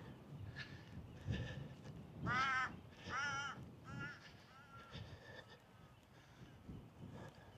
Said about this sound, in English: Watch these crows.